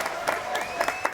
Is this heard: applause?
yes